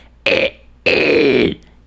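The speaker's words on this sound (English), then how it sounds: "I start with the basic fry sound." A vocal fry scream technique sung alone: a harsh, rasping voice in two bursts, first a short one and then a longer sustained one, loud and close with silence between.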